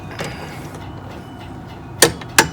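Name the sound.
socket torque wrench clicking at 200 inch-pounds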